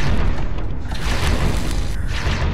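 Loud, continuous booming cartoon explosions fill the mix in the mech combat video game Vox Machinae, a dense rumbling roar with no pauses.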